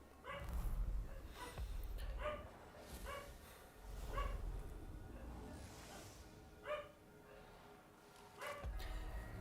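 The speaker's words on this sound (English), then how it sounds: "The dogs do be barking out there, or rather, a dog." A single dog barks outside in short, spaced bursts, faint and distant against a quiet indoor background with faint low rumble.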